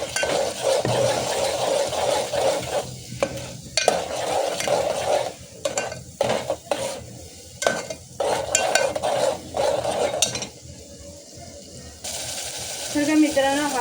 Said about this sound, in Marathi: आपला जो वाटण आहे ना तो सुद्धा ह्याच्यात ॲड करूया आणि हा सुद्धा मस्त भाजून घेऊया